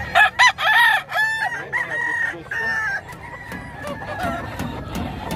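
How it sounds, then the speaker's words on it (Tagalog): A large fighting rooster crows loudly and close, several repeated calls at the start, then softer clucking and farm background noise. "Malaking manok oh."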